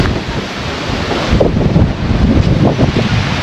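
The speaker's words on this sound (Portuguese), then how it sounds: "o tempo fechou, muito vento agora" Strong wind roars steadily against the microphone at a beach in Arambaré, Rio Grande do Sul, as weather closes in, gusting louder partway through, with a broad rushing noise and no voices.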